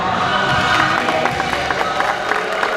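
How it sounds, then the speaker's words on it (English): Crowd of ride audience members at the Great Movie Ride Western scene at Disney's Hollywood Studios, cheering and clapping in a steady, dense wash of applause close by with voices mixed in. "don't forget the thunderous applause for yours truly"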